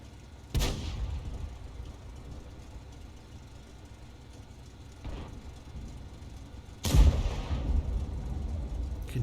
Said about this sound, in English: Can hear some big shots going off